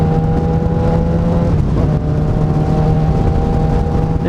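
A 2012 Yamaha FZ6R motorcycle cruises at speed, its engine a loud, steady drone with a constant tone, heavily mixed with wind rush close to the rider.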